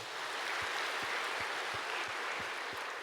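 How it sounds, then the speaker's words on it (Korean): Congregation in a church service applauding together, a steady wash of clapping at moderate distance with a few faint low thumps, no voices over it. "하나님께 영광의 박수"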